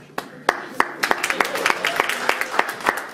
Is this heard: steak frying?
no